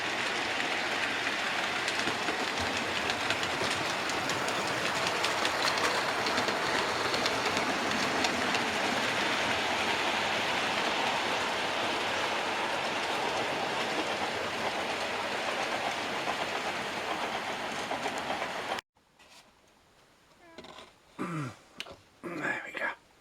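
Model train running on a loft model railway layout, a steady broadband rumble with faint clickety-clack that carries on for most of the stretch, then cuts abruptly to near silence with a few quiet close sounds.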